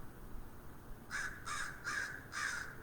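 Outdoors near a tree, a crow caws four times overhead in an even, evenly spaced series of loud raspy calls over quiet background hiss, with no talking.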